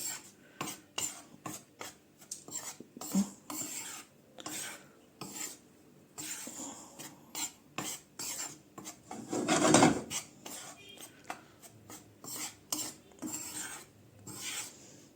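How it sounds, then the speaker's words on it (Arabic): A utensil scrapes and rasps against a hot pan, stirring flour in quick, irregular strokes, fairly quiet and close, with no one talking. "هي الطاسه سخنه، اقعد اقلب فيها كده برضو لغايه ايه تسخن"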